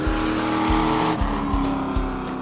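A race car at LA Racing laps the track with a loud, close engine drone and rhythmic low pulses from gear shifts or revs, with no speech.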